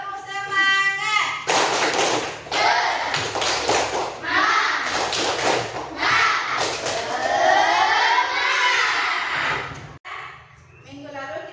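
A classroom of children performs the tepuk semangat group clapping routine, with sharp clustered claps and thumps breaking through loud rhythmic chanting voices.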